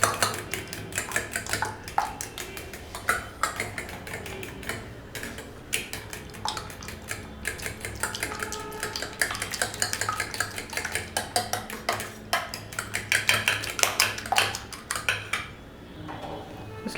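A whisk or fork beats eggs with milk in a bowl, a fast, steady run of clinking, scraping strokes against the sides that continues close up and fairly quiet for the whole stretch, without any voice.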